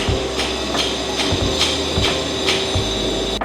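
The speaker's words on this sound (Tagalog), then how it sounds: "maingay since meron nga ongoing construction" Steady hammering from construction work inside a Boracay hotel building, with sharp blows landing about every 0.4 seconds over a constant mechanical hum, fairly loud and close, with no voices.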